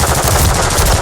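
Loud, continuous automatic gunfire from a Call of Duty: Modern Warfare III multiplayer match fills the whole moment. The rapid bursts run dense and close, with no talk over them.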